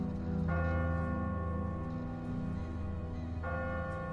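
A church bell tolls in The Walking Dead video game, struck twice about three seconds apart. Each deep, ringing strike hangs in a long sustained hum.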